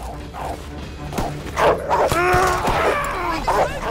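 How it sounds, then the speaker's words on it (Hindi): Dog barking and yelping inside the World War II shooter Call of Duty: WWII, several harmonic barks close and fairly loud over game background noise, with a voice-like murmur in between. "अरे भाई कुत्ते ने मार दिया क्या, अबे कुत्ते को देखा ही नहीं"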